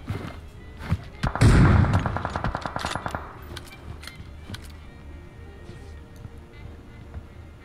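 Gunfire erupts in a shooter video game: a loud burst with a rapid train of shots, followed by scattered fainter pops, while a player talks in the background.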